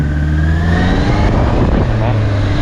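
A 2024 Honda CB650R E-Clutch motorcycle engine drones steadily and loud, its pitch rising smoothly as the throttle opens coming out of a corner, with someone talking over it.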